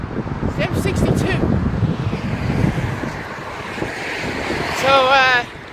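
Continuous broadband roar of heavy traffic on the M62 motorway mixed with wind. Voices talk over it, and a brief warbling whistle rises near the end.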